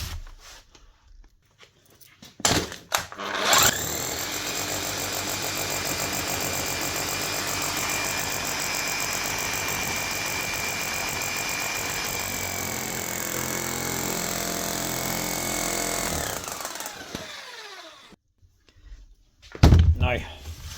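A Bosch GBH 7-45 DE demolition hammer, restored with a replaced bearing, starts up and runs with a steady loud rattling drone for about thirteen seconds, then winds down and stops, followed by a few clunks.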